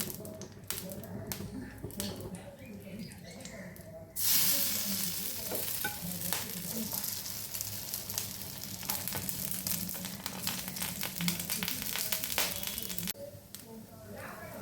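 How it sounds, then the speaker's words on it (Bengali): Flattened rice (chira) cutlets are laid onto a tawa of hot white oil, bursting into a loud, close sizzle with crackling spatter and scraping taps, quieter at first, then steady frying that eases near the end. "এবার আমি একটা একটা করে কাটলেট তাওয়াতে দিয়ে দিচ্ছি।"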